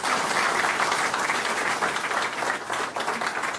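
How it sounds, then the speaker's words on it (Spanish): A crowd applauds steadily, a dense wash of clapping that stays even throughout. "aplaudan, porque no queda otra."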